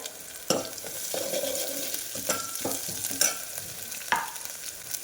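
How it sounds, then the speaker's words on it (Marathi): Ginger garlic paste frying with onion in a pan for moong dal khichdi, a steady close sizzle broken by several sharp clacks and scrapes of a spoon stirring. "त्यानंतर बारीक कुटलेला अद्रक लसूणची पेस्ट घालत आहोत"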